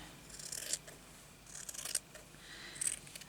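Scissors slice through fabric patchwork pieces for crazy patchwork, giving three distinct crisp snips spaced about a second apart, close and clear with no talking.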